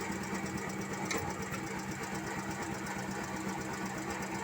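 A Suzuki Carry fitted with a Thunder 125 motorcycle engine runs steadily after being put into second gear, a close, even mechanical whir and rattle held continuously throughout.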